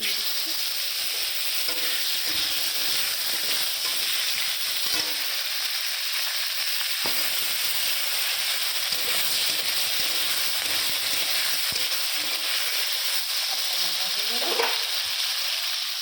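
Khoira fish fries in a pan tempered with nigella seeds, producing a steady, close, dense sizzle with occasional stirring scrapes throughout.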